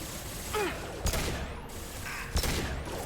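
Pistol fire in the Mass Effect trilogy game: two sharp, widely spaced shots over a steady background of game ambience, one near the start and one about a second and a half later.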